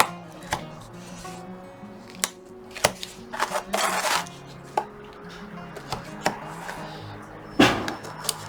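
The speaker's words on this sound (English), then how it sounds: "just cut out the template" Sharp cuts as a hobby knife or scissors trims a paper lifeboat template for an Artesania Latina Soleil Royal model ship: irregular crisp snips and slices, close and fairly loud, with quiet gaps and a faint background hum.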